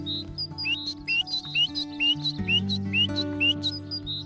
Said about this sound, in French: C'est la mésange charbonnière.